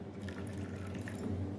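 Water trickles and splashes softly into a bowl of mung dal and corn chakuli batter, a faint, close liquid pour without talk.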